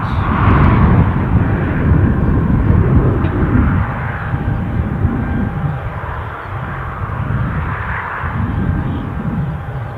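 Aircraft engines spool up at Newcastle airport, a steady, loud broadband roar with a faint whine, continuous throughout with a slight swell and dip partway.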